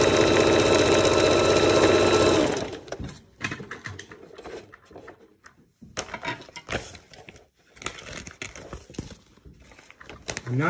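A sewing machine stitches a plastic face shield onto a homemade mask, running loud and fast with a steady mechanical chatter for about two seconds before stopping. Quieter handling clicks and rustles follow, with intermittent talking.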